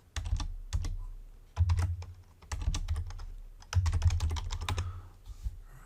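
Close, steady keyboard typing in irregular bursts of keystrokes while a folder name is entered on a computer keyboard, with short pauses between runs of clicks and no voices.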